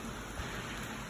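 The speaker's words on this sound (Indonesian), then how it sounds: "Kondisi hujan di pekarangan kita" Rain falls on a home garden yard as a soft, steady hiss of drops, faint and even throughout with no voices.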